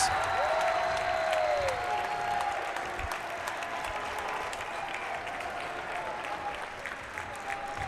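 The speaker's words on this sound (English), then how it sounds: "You can listen to the crowd here at Dearborn." A sellout crowd at Dearborn applauds and cheers after a basketball championship win, a dense, steady roar of clapping that stays loud throughout with faint whistles above it.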